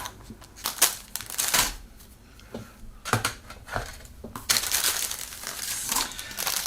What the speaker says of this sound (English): So let's open up the bag